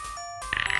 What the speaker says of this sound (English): that's the sound of chests opening